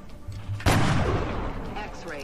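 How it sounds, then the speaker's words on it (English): A single sharp, loud sniper rifle shot in the turn-based strategy game XCOM Long War, with a hard crack and a decaying boom, heard close with no talk. "sniper now has one shot. So let's take this shot."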